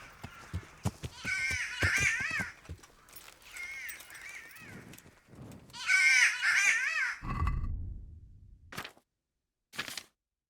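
A bird caws loudly several times in harsh bursts at close range, followed by a couple of short, sharp calls.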